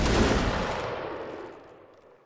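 A musket volley fired in Mount & Blade Napoleonic Wars, one loud, dense crack of many shots at once that rolls and fades over about two seconds, with no talking.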